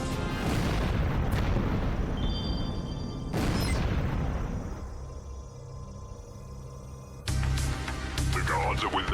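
Spaceship weapons firing in the space combat game Darkstar One, heavy booming blasts in bursts, one at the start, another around three seconds and a final burst near seven seconds, with a low engine rumble between them.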